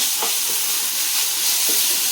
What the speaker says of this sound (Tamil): இது கொஞ்சம் வதங்கி வரட்டும்